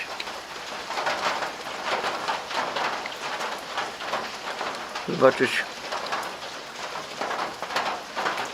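Rain patters steadily on outdoor surfaces as a shower lets up, a fairly soft, even wash of drops with a brief louder knock partway through and a voice faintly present.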